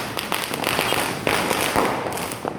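Dense Diwali firecracker bursts ring out over Chennai, rapid overlapping cracks and snaps at varying distances layered on a constant background of crackling detonations.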